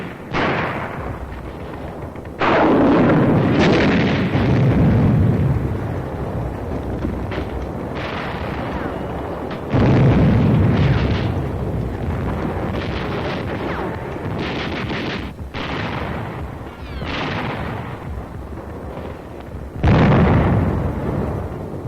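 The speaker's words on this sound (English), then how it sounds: "Bazooka. It's a hand-carried rocket gun. Firing it takes close teamwork." Bazooka rocket fire and explosions from a 1944 WWII combat film of the battle for New Britain: several heavy booming blasts at intervals over a continuous roaring, rumbling battlefield din, loud and with no talk.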